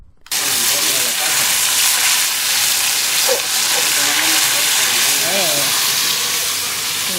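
Shrimp paste fries in a hot pan beside garlic with a loud, constant sizzle and splattering hiss, heard up close, with faint voices under it.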